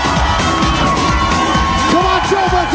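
A live-show crowd cheering and whooping loudly and continuously, with dense shouting voices filling the whole stretch.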